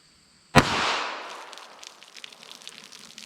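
A single .380 ACP pocket pistol shot into a ballistic box, one sharp crack followed by a lingering echoing tail.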